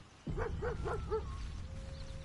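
A dog indoors gives four quick, evenly spaced barks or yips, close and clear, followed by a faint whimpering tone and quiet room noise.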